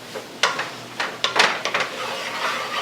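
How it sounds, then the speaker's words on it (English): Canned black beans, corn and diced tomatoes with green chilies tipped into a pan, a series of clattering knocks and sliding thuds spaced through a couple of seconds, moderately close. "we're going to add our black beans, our corn, and our diced tomatoes with green chilies"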